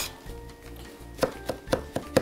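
A kitchen knife chops vegetables on a cutting board, giving several crisp, evenly spaced strokes over a soft background hiss. The chopping is close, with no talk.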